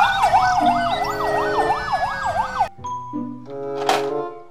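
Toy police car siren wailing in a rapid up-and-down electronic warble, loud and close, then cutting off into a few short beeps and tones from the toy.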